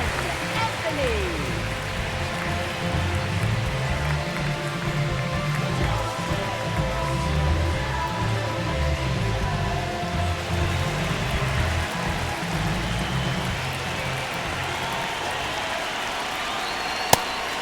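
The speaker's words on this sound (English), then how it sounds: "It feels like we might be headed towards a rain delay if the weather doesn't ease up" Rain falls steadily on a baseball stadium during a game in MLB The Show 26, a constant even hiss of rainfall that stays in the background with a low crowd rumble underneath and no break.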